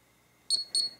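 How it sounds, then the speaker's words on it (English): Memo Box Mini Bluetooth smart pillbox sounding its ping alarm: three short, bright electronic beeps in quick succession, close and clear over a quiet background. "that will ring the alarm and also have the kind of LED light start to flash as well"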